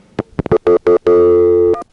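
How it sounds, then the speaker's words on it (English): A 1A ESS Centrex telephone line answers a pound keypress and hook flash with a string of short tone bursts, then a steady held tone that cuts off abruptly, followed by a brief final beep. "I'm going to hit pound and flash my hook."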